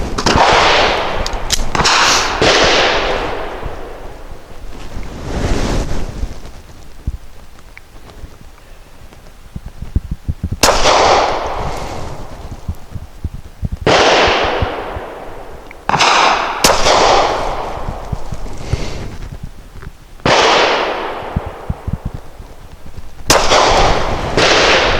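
A Diamondback DB9 Gen 4 pistol fires 150-grain ammunition in loud, sharp reports, single shots and quick pairs spaced a few seconds apart, each ringing out briefly outdoors.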